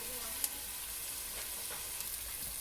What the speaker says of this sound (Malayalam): നമ്മുടെ ഓണിയൻ ഒന്ന് വഴണ്ട് വരുന്നുണ്ട്